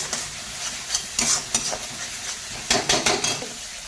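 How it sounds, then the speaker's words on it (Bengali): Spice masala with tomato and onion stir-fried in oil for a mustard-paste fish curry. A soft sizzle sits under sharp bursts of a utensil scraping and clattering against the pan in quick clusters. "মশলাটা কষাতে হবে তেল ছাড়ার জন্য"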